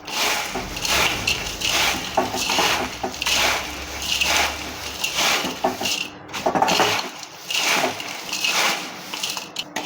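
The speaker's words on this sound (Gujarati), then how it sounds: "તો હવે આપણે બધું હાથેથી મિક્સ કરી લઈશું" Poha chevda being tossed with spices by hand in a bowl: rhythmic dry rustling and crunching of flattened rice flakes in repeated bursts, close and fairly loud, with brief pauses between strokes.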